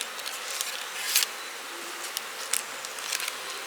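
Honey bees buzz steadily in an open hive during a spring feeding check, a soft continuous drone with a few brief louder passes close by.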